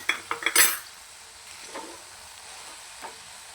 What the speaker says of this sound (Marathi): तर याच्यामध्ये आपण फ्राय केलेले सोयाबीन टाकून घेऊया आणि चांगले मिक्स करून घेऊया.